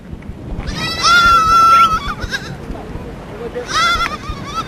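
Goats from a tiny herd tended by two boys in a Saharan desert setting bleat loudly, with two clear drawn-out calls, one early and one near the end, over constant background noise.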